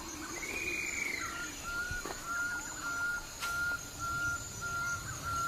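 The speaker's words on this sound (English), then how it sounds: "Most extraordinary of all are the birds of paradise." Birds of paradise in New Guinea forest call with a rising then falling whistled note followed by several sharp, repeated tones, moderately near over a soft background hum, with no talking.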